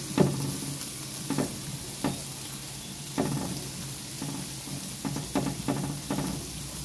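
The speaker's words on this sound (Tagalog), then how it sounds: "Siyempre, lagyan natin ating onion. White onion gamit natin." White onion frying in a pan for creamy cheese carbonara, sizzling steadily and close, with repeated scrapes of stirring at an uneven rhythm and no talk.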